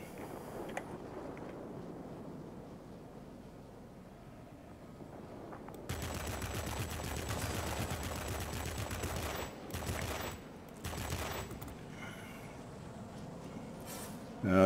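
Heavy cannon fire from an ME P.1101 fighter in a flight combat game erupts in long dense bursts midway, loud and rattling, with brief pauses between volleys and no talk over it.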